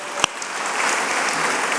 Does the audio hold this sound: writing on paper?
no